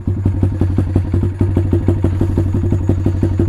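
A Taotao DB17 125 dirt bike with a newly upgraded carburetor idles close by in a loud, rapid, even chug of single-cylinder firing pulses with a light mechanical clatter, and no one speaks.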